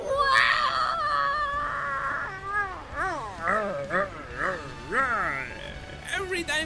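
A high, wavering feral scream in the Beacon Pines video game rises and falls in several pitch-bending yowls, loud and close, sounding cat-like and almost like crying.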